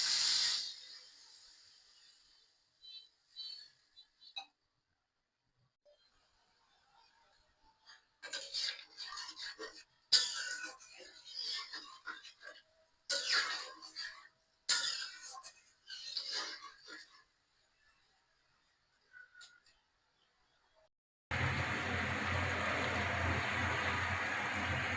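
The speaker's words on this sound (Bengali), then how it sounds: "ঝোল ফুটে গেছে, এখন মাছগুলো দিয়ে দিব।" A pan of papaya and shing fish curry broth bubbles and hisses on the stove in short, uneven bursts separated by quiet gaps, ending in a loud, steady rush of noise.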